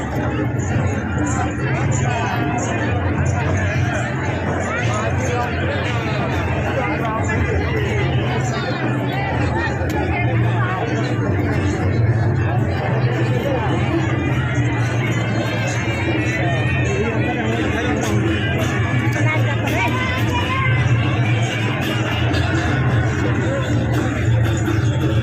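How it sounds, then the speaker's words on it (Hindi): A dense crowd packs the streets around a Rahul Gandhi rally in Ambikapur, a loud continuous babble of many voices mixed with idling traffic and vehicle rumble, close and unbroken throughout. "इधर भी पूरा भीड़ है भाई"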